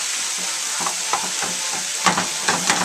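Food cooking down in a pan sizzles steadily, with a few louder clinks and scrapes of stirring standing out near the end.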